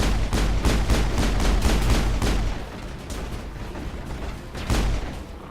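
Rapid bursts of enemy gunfire in the video game Mass Effect, a dense run of loud, closely spaced shots for about two and a half seconds, then sparser fire with one more loud volley near the end.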